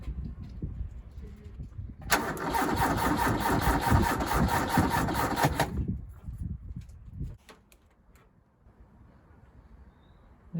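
A Ford Capri's starter motor cranking the engine over, a steady, loud whirring churn lasting several seconds that then stops, followed by faint clicks and quiet handling noise.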